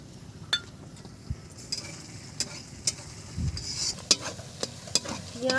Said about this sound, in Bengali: পেঁয়াজ আদা রসুন ভাজা হয়ে গেছে